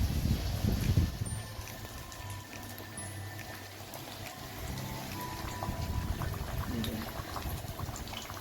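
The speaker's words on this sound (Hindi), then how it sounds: "अब मैं डीप फ्राई करने जा रही हूँ।" Flour-coated chicken pieces deep frying in hot oil for a KFC-style fried chicken, a dense continuous bubbling crackle that is louder at first and then settles into a steady fizz.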